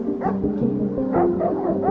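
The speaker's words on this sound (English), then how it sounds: "Dogs' barks gets louder." Police dogs barking and yelping in quick repeated bursts, loud and close, with no voices over them.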